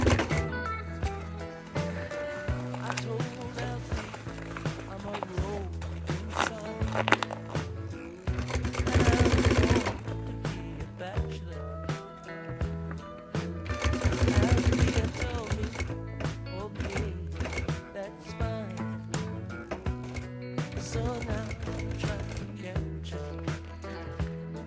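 A sewing machine stitches a bikepacking frame bag with rapid, steady mechanical chatter, rising into two longer fast bursts. Someone talks over the work.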